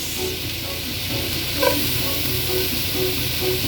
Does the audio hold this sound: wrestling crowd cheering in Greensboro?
no